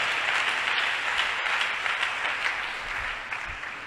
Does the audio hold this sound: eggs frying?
no